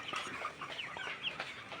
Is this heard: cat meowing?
no